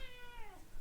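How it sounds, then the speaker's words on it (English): A house cat lets out a single clear meow, close and alone, rising and then falling in pitch over under a second. "Cat's just meowed."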